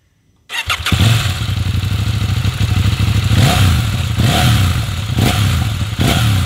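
A KTM Duke 790 motorcycle engine starts up after a moment of silence and settles into a loud, close, lumpy idle, with a few blips of the throttle rising and falling.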